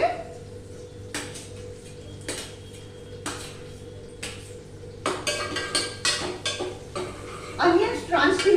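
Capsicum and onions being stirred in a pan for cheese khada pav bhaji, with a steady low kitchen hum, repeated utensil clanks and scrapes against the pan, and brighter clattering strokes toward the end.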